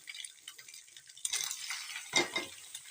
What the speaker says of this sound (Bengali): এখানে আমি লাউটা দিয়ে দিলাম এবার ছাড়া করে নেব ডিমটার সাথে ভালো করে মিক্স করে নেব